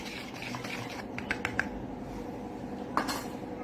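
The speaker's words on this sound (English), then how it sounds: "We'll just kind of mix the dry ingredients." A few light clinks and taps of a utensil against a bowl as dry ingredients, baking soda, baking powder and salt, are mixed, quiet over low room hiss.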